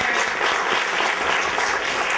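A dense, steady round of clapping fills the room as an audience at an event technology competition applauds the student teams, loud and sustained throughout with no pause.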